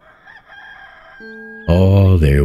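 A loud rooster crow bursts in near the end from the Enshrouded survival game, strong and close, following quieter synthetic tones and faint ambient game sound.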